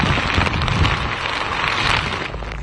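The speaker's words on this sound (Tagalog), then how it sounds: "biglang lumakas ang pagbuhos ng ulan" Heavy rain pours during Typhoon Aghon in Surigao City, a loud, continuous hiss of downpour mixed with wind buffeting the microphone, steady for the whole stretch and easing slightly near the end.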